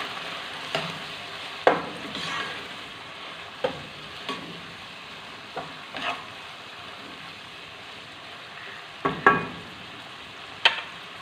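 Chicken seasoned with black pepper and crushed red chili is stirred in a pan for spicy chicken spaghetti, with a steady soft sizzle under repeated scraping strokes of a spoon at irregular intervals, close and fairly quiet.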